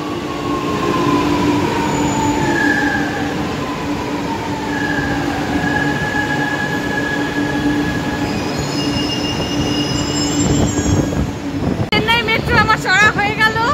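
A Chennai Metro train pulls into Vadapalani station with a rising electric motor whine, rolling rumble and high wheel squeal, ending in sharp brake hisses and chirps, with voices in the background.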